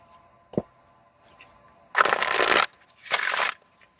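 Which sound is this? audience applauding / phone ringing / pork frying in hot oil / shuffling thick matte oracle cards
shuffling thick matte oracle cards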